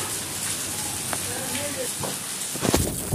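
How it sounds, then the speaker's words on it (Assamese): Continuous rain falls in a steady, close wash of hiss, with a person talking over it and a few louder bumps near the end. "নেৰা নেপেৰা বৰষুণ।"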